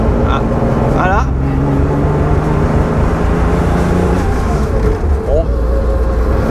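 Porsche six-cylinder engine idling steadily at about 2000 rpm during ignition testing, a continuous close mechanical hum under someone talking, with a brief dip near the end.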